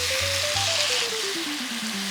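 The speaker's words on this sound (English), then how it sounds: "And I'm gonna add my tomatoes in." Tomatoes tipped into hot oil with aromatics, a loud, even, close sizzle that holds steady throughout, with a faint sliding tone drifting beneath it.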